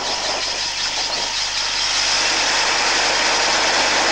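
A vehicle engine running steadily with revs raised to roughly 1,500–2,000 rpm to charge the battery through the alternator, a constant close drone with no talking.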